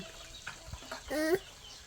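Short clucks from chickens nearby, a few spaced calls followed by a longer squawk, over a quiet background.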